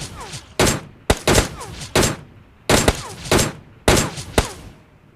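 Bursts of rapid gunfire from the mobile shooter PUBG Mobile Lite come in four loud clusters about a second apart, each a quick string of sharp cracks and thuds.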